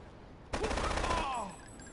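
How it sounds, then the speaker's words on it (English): Assault rifle gunfire in the video game GTA3: a single rapid burst of automatic shots lasting about a second, loud and close, followed by a brief fading tail. "Not a bad assault rifle."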